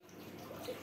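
Water rushing steadily into the tub of a Haier top-load automatic washing machine during a fill cycle, a continuous close hiss and splash with no voices.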